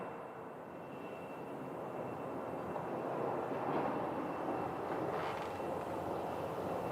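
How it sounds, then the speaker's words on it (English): Far off and faint, a Boeing 777-200 jet airliner at Phoenix Sky Harbor gives a broad engine rumble that swells gradually, then eases slightly, with no talking. "But this one is N762AN, a 2-year-old Boeing 777-200."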